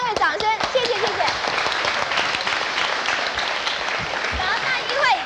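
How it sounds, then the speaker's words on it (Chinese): Studio audience on a 1986 TV game show applauding, sustained loud clapping from a crowd with a host's voice speaking over it throughout. "所以我们给他们3位掌声"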